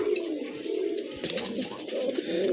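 Pigeons cooing at a pigeon market, with soft repeated coos close by over a murmur of background activity, no speech over them.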